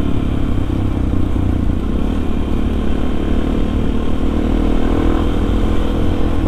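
Supermoto motorcycle ridden at night around Lembang, a loud, constant engine drone at steady speed with rushing wind and road rumble, no speech.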